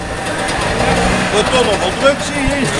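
Former East German two-stroke engine idles at a classic car and bike show in a Dutch shopping mall, a steady buzzing rattle close by, mixed with crowd chatter and voices nearby.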